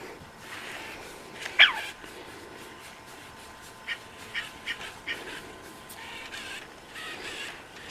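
A dog gives a single sharp bark, followed by a series of softer, evenly spaced yips or huffs, heard faintly outdoors against a quiet background hiss.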